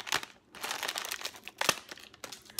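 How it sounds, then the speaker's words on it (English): Close, crinkly rustling of a plastic bag of Kirkland organic roasted seaweed snacks, with sharp scissor snips and crackles, irregular bursts as the wrapper is handled and cut open. "I like to take the top off with a pair of scissors."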